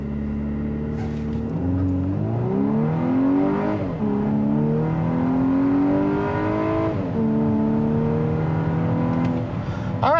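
A 2024 Volkswagen Atlas SEL Premium R-Line in sport mode accelerates hard from a standstill to 60, its engine rising in pitch through several gear shifts, loud and steady throughout with no talking.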